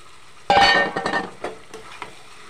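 Mutton pieces tossed into hot, oil-rich spiced masala in a pan sizzle sharply at first, then a spatula stirs with short scraping and clinking strokes as the frying hiss fades.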